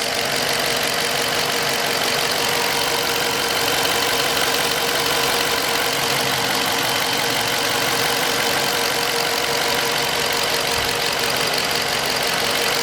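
A 5.7-litre HEMI V8 in a 2020 Dodge Charger police car idles steadily, a dense even rumble with a faint rhythmic tick, close and unchanging throughout, no talking.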